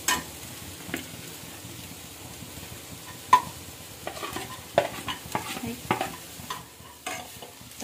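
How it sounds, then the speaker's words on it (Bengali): Onion and garlic frying in butter in a pan, with a soft steady sizzle, occasional sharp clinks and scrapes of stirring, and no voices. "বাটার দেওয়ার পর পেঁয়াজ রসুন দিয়ে দিচ্ছে"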